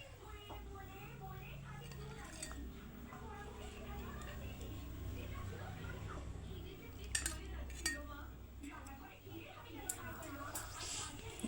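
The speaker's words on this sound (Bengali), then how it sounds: "এবার আমি মাংসটা একটু পাত্রে ঢেলে দেবো।" Metal pot and spoon clink and scrape as cooked Bengali red-gravy chicken curry is poured into a serving dish, with soft irregular clatters under steady talking.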